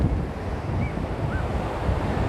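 Strong wind buffeting the microphone with a low, continuous roar, alongside the wash of surf on the Gold Coast near Surfers Paradise, Australia.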